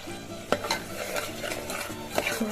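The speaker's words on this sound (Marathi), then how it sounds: "ते टाकून आपल्याला चांगलं मिक्स करून घ्यायचं" Onion, tomato and coconut paste stirred into mutton in a pan, with a soft sizzle of frying under repeated scraping strokes and a few sharp utensil knocks against the pan, close and alone without talk.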